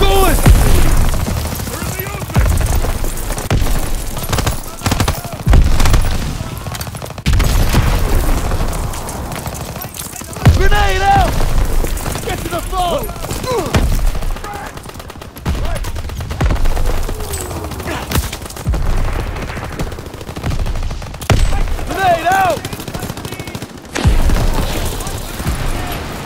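Call of Duty WW2 battle with nonstop gunfire, rattling machine-gun bursts and booming explosions, loud and dense throughout, with shouted voices mixed in.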